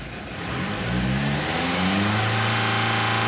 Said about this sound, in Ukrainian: машинка запускається, горить чек